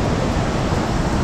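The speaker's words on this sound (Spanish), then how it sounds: "Solo escuchen ese hermoso cantar de la cascada." The La Curva waterfall in Norte de Santander rushes in a steady, loud, broad roar of falling water heard close up, with no voices.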